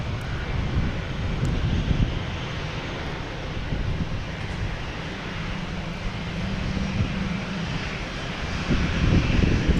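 A Delta airliner's jet engines roar steadily at a busy airport, a broad continuous rumble with wind buffeting the microphone, swelling slightly toward the end.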